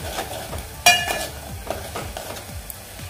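Whole spices tempering in hot oil for Maharashtrian buttermilk kadhi give a steady sizzle with a sharp crackling burst near the start, under faint stirring and pan scrapes.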